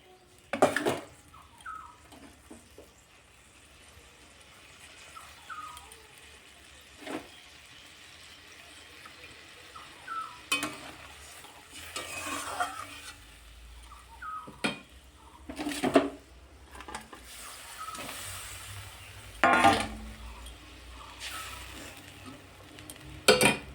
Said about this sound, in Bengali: এবার ভেজে রাখা মাছটা আমি ঝোলের মধ্যে দিয়ে দেবো